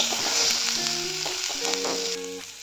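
Vegetable cutlets shallow frying lightly in a pan of oil, a steady close sizzle with bright crackle running throughout, fading slightly toward the end, no voices.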